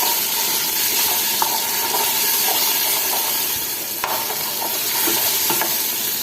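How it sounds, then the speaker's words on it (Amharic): Salsa frying in oil in a pan, a continuous close sizzle and hiss with scraping stir strokes and a few sharp clinks, with no talking. "የሚበቃኝን ያክል ሳልሳውን እንዲህ አድርጌ ጠብሰዋለሁ።"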